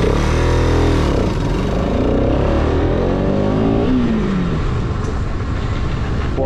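A Bajaj Pulsar RS200 motorcycle pulls away in first gear, its engine loud and close, the tone climbing as it revs up before easing and rising again.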